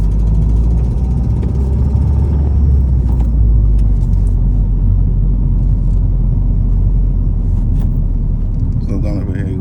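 A Toyota MR2 drives along with a steady, loud engine rumble throughout and a shift into second gear, while people talk over it inside the car.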